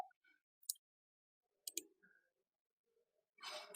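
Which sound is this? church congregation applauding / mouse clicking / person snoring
mouse clicking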